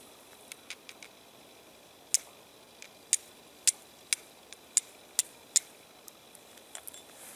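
A quartz stone struck against steel to throw sparks onto charcloth for fire lighting, a series of sharp, crisp clicking strikes, close and irregular, about a dozen hits with no talking.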